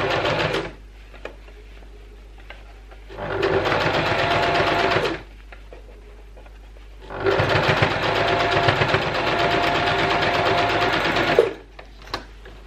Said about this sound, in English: We're going to do a nice top stitch just down this edge here to keep it straight, nice and neat.